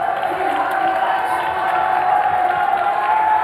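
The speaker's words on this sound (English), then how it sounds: "I think they're just cheering for everyone now, Aggie." A crowd at the FIFAe Club World Cup 2023, an esports football tournament, cheering in a sustained, steady roar with whoops mixed in, heard from a distance throughout.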